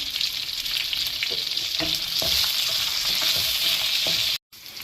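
Onions and curry leaves fry in oil in a pan with a bright, continuous close sizzle, punctuated by occasional scrapes and taps of stirring, before a brief cut near the end.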